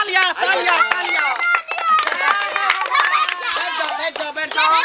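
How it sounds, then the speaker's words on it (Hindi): A class of children claps at the end of a lesson, with sharp, uneven handclaps mixed with lively children's voices and chatter nearby. "तालियां तालियां तालियां।"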